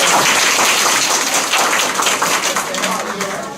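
An audience at a teacher training session claps continuously, dense and close throughout, with a voice talking over the applause.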